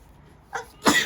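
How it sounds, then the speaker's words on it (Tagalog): Two quick sneezes from people at a Tongits card game, a small one followed by a louder, sharper burst close by, with nothing else heard. "Ba't tayo bahing ng bahing?"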